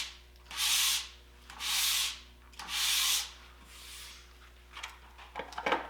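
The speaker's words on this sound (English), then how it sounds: "just do a couple passes with the sandpaper down the ski there in the direction of the" Sandpaper rubbed in passes along the grip zone of a cross-country ski, three loud close scratchy strokes followed by softer, shorter scrapes.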